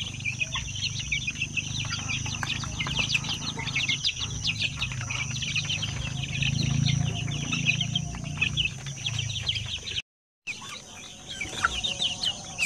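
A flock of 45-day-old pure Basilan native chicken chicks cluck and chirp continuously over a low farmyard rumble, with dense peeping throughout and a brief gap near the end.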